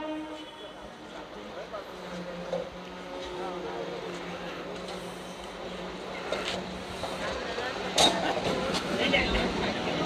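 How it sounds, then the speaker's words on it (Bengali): Train pulling into a railway platform on the way to Dakshineswar: a low rolling rumble and rattling that builds gradually under scattered background voices, with a sharper clank near the end. "প্ল্যাটফর্মে এখন ট্রেন ঢুকলো"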